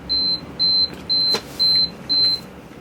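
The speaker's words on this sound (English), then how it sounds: "as you heard, my alarm just went off" An alarm beeps five times in a steady, evenly spaced rhythm, each tone a short bright electronic note, loud and close over a quiet room with no talking.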